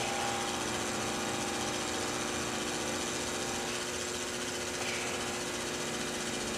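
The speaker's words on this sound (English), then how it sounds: "I'm drilling." A drill bit cuts metal with cutting fluid while making a pulley and rotor head for a Stirling helicopter model. It gives a constant loud whirring grind from start to finish.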